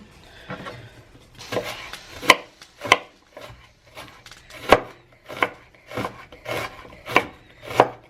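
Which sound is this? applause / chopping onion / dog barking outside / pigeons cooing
chopping onion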